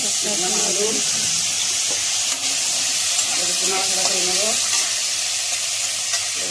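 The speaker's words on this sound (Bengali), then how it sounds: "তারপরে আলু কটা একটু ভেজে নেবো" Potatoes fry in a pan with a loud, constant sizzle and crackle close by, while a voice murmurs faintly in the background.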